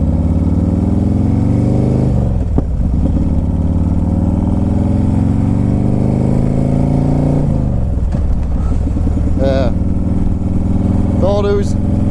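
A loud, constant engine drone comes from road traffic heard from a Harley motorcycle, with the rumble of passing cars and motorcycles underneath and a couple of brief higher-pitched sounds near the end.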